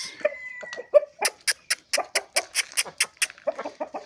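A run of sharp, evenly spaced clucks from Vietnamese chickens, rising into a quick rhythmic burst before trailing off into softer clucking.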